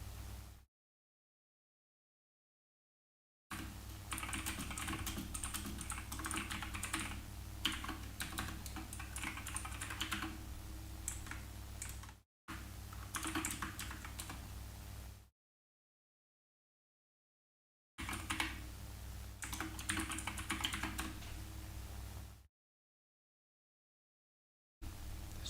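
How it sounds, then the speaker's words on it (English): Rapid, aggressive typing on a computer keyboard rattles in close, dense bursts of key clicks, broken up by several stretches of total silence. "furious typing, no, not furious, only aggressive"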